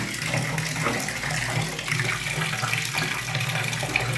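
Hot water runs steadily from a tap fed by a V-Guard Divino water heater, a continuous broadband splashing rush that stays even throughout, close and fairly loud with no speech.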